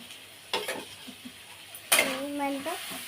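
Shrimp stirred in a hot frying pan, with two bursts of scraping and sizzle near the mic and a tonal clink of a spoon against the pan, set against a faint background.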